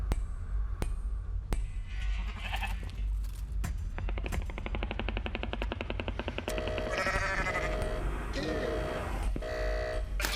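A goat bleats repeatedly in a video game, wavering nasal cries layered with game sound effects, sharp clicks and bursts, moderately loud, with a faint voice talking at times.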